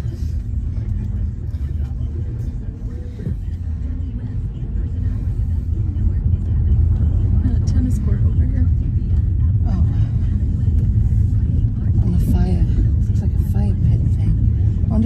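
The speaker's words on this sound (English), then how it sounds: "The car coming." A car rolls slowly up a residential driveway, its low engine rumble and tyre noise steady and close, growing slightly louder partway through, with people talking over it.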